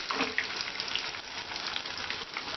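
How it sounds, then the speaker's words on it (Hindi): Paneer tikka pieces fry in a pan of hot oil with a steady, close, dense sizzle that runs without a break, and a few brighter pops and crackles stand out near the start. "ये देखिए अच्छे से ये फ्राई हो रहे हैं"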